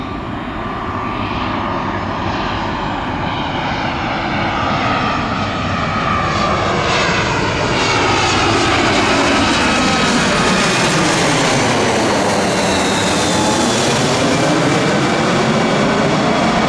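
Spirit Airlines flight 1350 from LaGuardia roars in to land at Orlando's MCO on runway 18, a loud close jet engine rumble and whine that swells and sweeps in pitch as the airliner passes overhead, with no talk.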